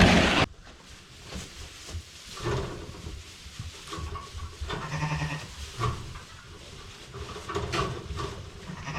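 Katahdin hair sheep inside a small 24 by 25 foot sheep barn, with scattered soft bleats, rustling and shuffling of hooves and bedding at close range, and no talk.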